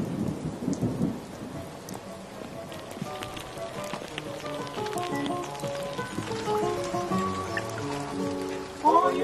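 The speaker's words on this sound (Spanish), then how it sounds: "viene una tormenta. Un palo de agua" Rain falls steadily while a low rumble of thunder rolls, with music-like tones rising in the background.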